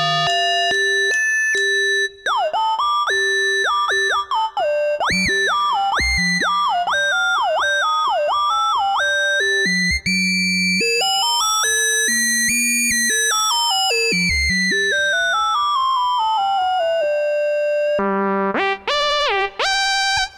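A restored Minimoog synthesizer's third oscillator plays loud, buzzy tones in the audio range, first as choppy stepping notes, then as sliding pitch sweeps that rise and fall, with short breaks between phrases.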